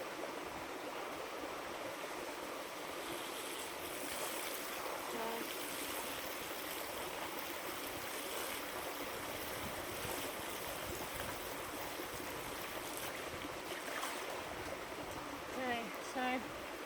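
River water flowing steadily while yacons are washed, a continuous broad rushing wash close by, with a voice briefly audible under the flow.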